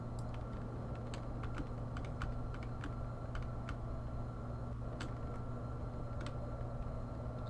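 Computer keyboard keys clicking while piloting a craft in Kerbal Space Program: scattered, irregular taps, some in quick pairs, close and fairly faint over a steady low hum, with no talk.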